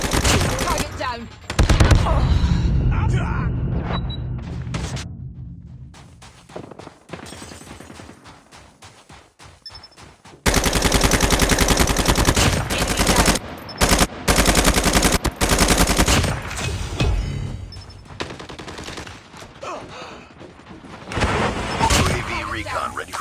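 Rapid automatic gunfire from Call of Duty Mobile on the Nuketown Russia map, loud bursts and sustained fusillades with brief lulls, interleaved with game effects and occasional callout voices.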